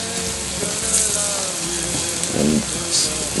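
Plantain slices fry in a pan with a continuous bright sizzle and crackle, flaring briefly as the pieces are turned over, close and fairly loud with no talking.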